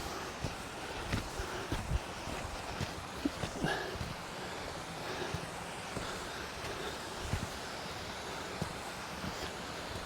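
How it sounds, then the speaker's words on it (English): Rushing water from a waterfall on a forest hike, a broad steady roar with gusts of wind buffeting the microphone and occasional knocks, continuous throughout with no talking. "Yeah, this is the last waterfall."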